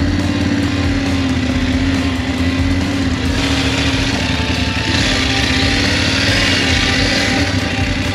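A BMW F850 motorcycle engine runs continuously and loud up close, a steady buzzing drone with slight shifts in pitch and no talk, as the bike is being moved in under a tent at a campsite.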